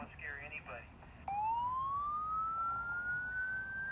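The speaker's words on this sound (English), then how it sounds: "Now I'm going to play the siren." A police siren played through a phone speaker rises in a long upward wail that starts abruptly after a brief moment of quieter sound, then holds loud and close.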